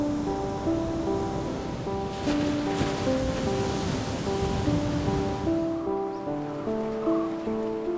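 Sea waves wash steadily along a shore, a continuous broadband surf roar with sustained musical tones layered over it throughout.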